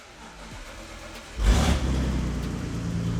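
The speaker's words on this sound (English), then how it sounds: "The car started up first try, which is unexpected." A BMW race car engine cranks and catches at about 1.5 seconds with a loud burst, then settles into a steady, rough, close idle that carries on to the end, with a faint whir before it fires.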